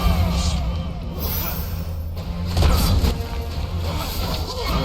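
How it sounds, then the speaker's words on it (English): Explosions and crashing impacts in the Hand of Fate 2 video game, a dense run of loud booms and smashes over a steady low rumble, with a heavier burst midway through the combat. "especially with all the explosions."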